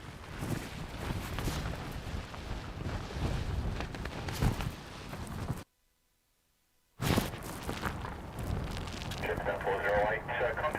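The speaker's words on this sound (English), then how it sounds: "It is still wild, and the wind has picked up." Strong, gusty wind buffets the microphone at a wet, stormy airport, a loud continuous roar broken by a brief silent gap, with a voice speaking over it.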